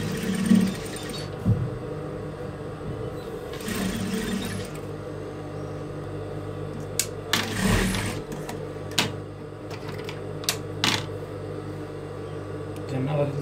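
A sewing machine stitches the shoulder seam of a child's kimono-sleeve djellaba, a steady motor whir broken by sharp clicks and brief louder runs, with occasional handling noises nearby.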